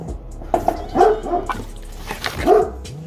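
A dog barks several times in short, sharp bursts at close range, with a brief whine near the end.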